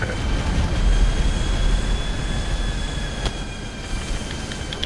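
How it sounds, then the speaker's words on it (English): A Vulcan jet in an aerobatic flyover at a beach air festival in GTA 5 roars as a steady, loud, broadband rumble with a faint whine on top, holding near constant throughout. "get your hands together for 2020 Vulcan Aerobatic"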